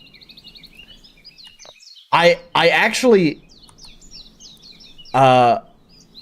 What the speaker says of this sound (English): That is a Japanese warbler.